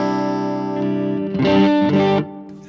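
Clean electric guitar tone through a BOSS IR-2 pedal set to stereo hall reverb, on a tweed amp setting: sustained chords ring out, then two firmer strums swell and decay into a lingering reverb tail.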